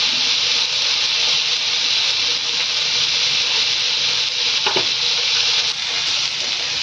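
Refined oil heats and sizzles in a kadai, a steady bright frying hiss that carries on unbroken from start to finish, close and fairly loud, with a faint clink midway.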